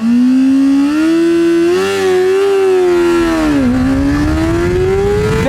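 A Honda CBR600RR sport motorcycle accelerates hard from a standstill in a 0 to 60 run, its engine screaming loud and close, the pitch climbing steadily with brief dips at gear changes, all without talk.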